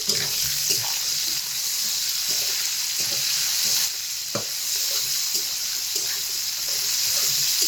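Slender homegrown drumstick stalks frying in hot oil for a Bengali shukto, a steady dense sizzle and hiss with occasional stirring knocks and scrapes, close and continuous with no talk.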